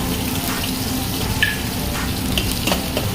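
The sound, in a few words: curry leaves sizzling in hot oil with ginger, garlic, chilli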